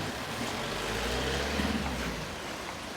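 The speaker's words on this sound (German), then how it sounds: "Jetzt fährt der Parallelverkehr los." Cars in parallel traffic pull away from a street crossing, a broad rumble of engines building gently and passing at moderate distance amid steady road noise.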